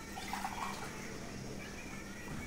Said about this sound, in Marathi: 9 ग्लास पाणी घ्यायचं